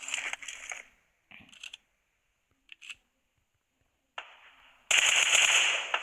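Uzi fire in a first-person shooter video game: short rapid bursts of crackling automatic shots at irregular intervals with gaps of near silence, ending in a longer, louder sustained volley.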